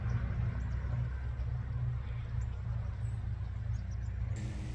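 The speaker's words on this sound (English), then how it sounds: "they're cutting the grass right across the creek" A lawn mower cuts grass across a creek, a faint, steady low engine hum droning in the distance without pause.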